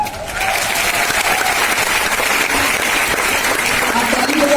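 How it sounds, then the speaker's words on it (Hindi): Audience applause at a network marketing youth empowerment program, a dense steady clapping from a large crowd that fills the room loudly and continuously without letting up. "आप ताली बजा रहे हो"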